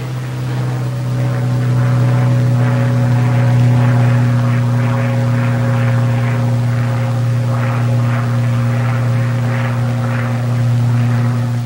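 A P-51 Mustang piston-engine fighter in flight, its propeller engine droning steadily and loudly close by with a strong constant low hum and throbbing overtones throughout.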